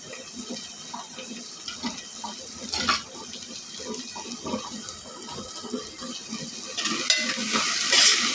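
Onions sizzle in a pan while a utensil stirs and scrapes, a steady crackling frying sound with intermittent clinks.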